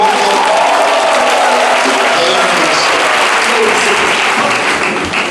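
A church congregation applauding during a Sunday service, sustained dense clapping from a large crowd that holds steady and loud throughout, with some voices mixed in.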